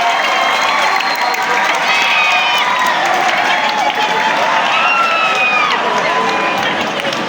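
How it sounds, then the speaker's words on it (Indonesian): Sustained applause and cheering from a school crowd of students for the principal and teachers, a dense steady wash of clapping with shouts mixed in throughout. "Tepuk tangan buat ibu kepala sekolah dan bapak ibu guru kalian"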